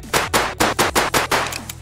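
Rapid gunfire in a Roblox shooting game, about seven loud, evenly spaced shots in under two seconds, sharp and close with no talking over them.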